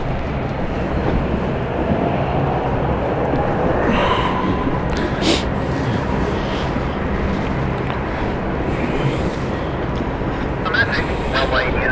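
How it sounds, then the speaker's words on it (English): Dash 8 turboprop engines at London City Airport, a steady broad roar throughout with brief sharper bursts, heard from a distance. "Dash 8 is going out. Dash 8 has started."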